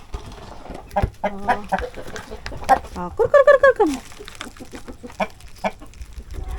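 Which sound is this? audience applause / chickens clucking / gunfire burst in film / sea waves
chickens clucking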